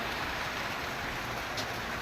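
Steady rain falling outdoors on a Sunday, a constant dense hiss of drops with no distinct individual patters, even and unbroken throughout.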